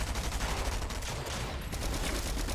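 Rapid continuous SMG fire from players running double SMGs in Fortnite, a dense loud rattle of overlapping shots throughout.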